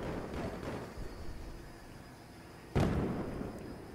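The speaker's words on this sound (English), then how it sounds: "I'm using the frag grenade" Frag grenade going off in Battlefield 4 during a Conquest match: one sharp, fairly distant blast cracks out late, over a low, busy rumble of battlefield noise and scattered pops, and a faint tail follows it.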